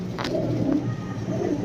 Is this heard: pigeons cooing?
yes